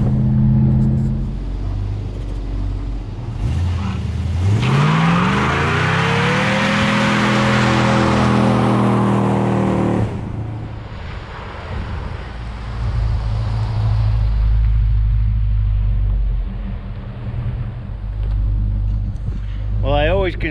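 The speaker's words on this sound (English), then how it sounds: "Let's go find and see if we can find a place to do a burnout." A 1966 Dodge Coronet 500 revs hard, its engine roar climbing steeply and holding loud for several seconds before dropping back to a deep, rumbling idle.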